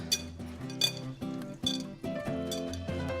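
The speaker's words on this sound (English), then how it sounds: "let's toss the tomatoes now" Tomatoes tossed in a bowl, giving a series of sharp clinks and knocks against the bowl, several distinct hits with short ringing tails, close by and without talk.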